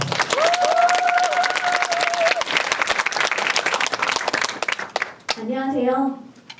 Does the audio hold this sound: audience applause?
yes